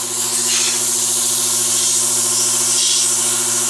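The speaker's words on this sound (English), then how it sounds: "I'm going to use some 220 wet dry with some paint thinner for lubricant." Wet sanding with 220-grit wet-dry sandpaper lubricated with paint thinner on a Yates American B244 machine part gives a loud, continuous close-up hiss with a faint steady hum underneath.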